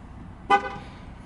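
A RAM 1500 Limited pickup truck answers a remote start with a single short horn chirp, brief and moderately loud against a faint outdoor background.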